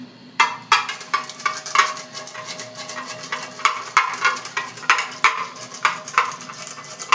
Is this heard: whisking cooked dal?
yes